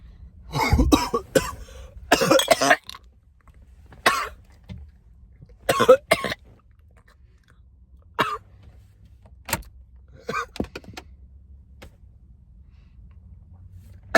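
Someone coughs hard and close after smoking a vape cart. Harsh fits of coughing and throat clearing come in separate bursts with quiet gaps between them, then a few lighter coughs follow.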